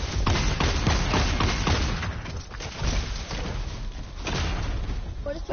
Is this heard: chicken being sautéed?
no